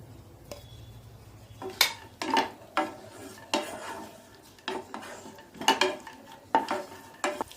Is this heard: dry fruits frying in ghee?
yes